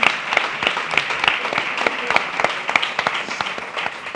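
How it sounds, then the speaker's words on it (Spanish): An audience at a talk on feminist leadership in San Sebastián breaking into applause, a dense, lively patter of many hands with some louder individual claps throughout. "esto se merece un aplauso, efectivamente"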